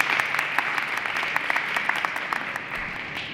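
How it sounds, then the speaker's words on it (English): An audience at a community town hall in a high school claps together in a dense, steady round of applause that lasts a few seconds, with a faint voice underneath. "let's give them all a round of applause for being here this evening"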